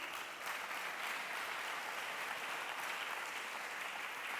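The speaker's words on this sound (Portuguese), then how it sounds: "Pode aplaudir Jesus." Church congregation at a celebration service applauding, a sustained, even roar of many hands clapping together with no pauses, moderately distant and steady throughout.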